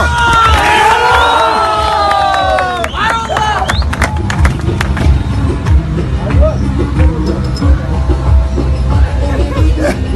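Crowd cheering and shouting loudly together, with clapping and excited voices blending into a continuous roar close by, swelling near the start then settling into steady hubbub.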